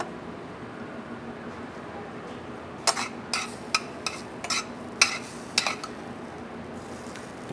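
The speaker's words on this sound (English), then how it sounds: "Obviously, it's a very hot pan. I'm gonna take the two dried chilies out of here." Metal tongs or utensils clink against a very hot pan while lifting out two dried chilies, a quick burst of bright scrapes and taps over a faint steady sizzle.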